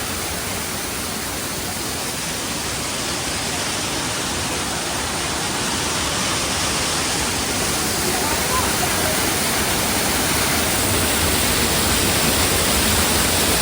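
The Somtirth (Nivendi) waterfall roars steadily and loudly in the monsoon, a dense unbroken rush of falling water filling the whole scene from start to finish.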